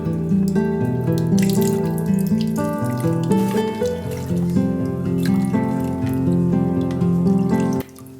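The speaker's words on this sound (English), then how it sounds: "I also washed the purslane very well in filter water" Purslane is washed under filtered water running steadily into a kitchen sink, a continuous splashing and trickling flow that stops abruptly just before the end.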